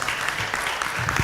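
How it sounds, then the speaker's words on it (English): A lecture audience at a medical talk applauds a speaker, dense continuous clapping from a room full of people, fairly close and even, with no voices over it. "Please give a round of applause to Dr. Ocha."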